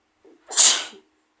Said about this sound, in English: So sorry about that, I just sneezed.